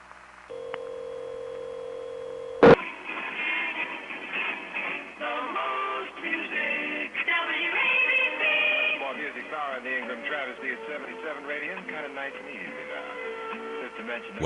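A dialed telephone line carrying a recorded song, held up to a radio and rebroadcast, comes through after a brief tone and a sharp click. The narrow, tinny, band-limited audio plays steadily for the rest of the clip.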